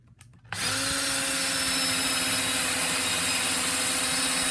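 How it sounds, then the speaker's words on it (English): A power drill bores a pilot hole into a wooden rail, starting with a short whir before settling into a loud, steady, close motor whine that holds unbroken to the end. "Now I can drill the pilot hole straight."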